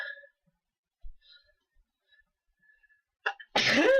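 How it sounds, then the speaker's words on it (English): A single sharp, loud sneeze bursts out at the end after near silence, with a short breathy intake just before it. "I keep on sneezing"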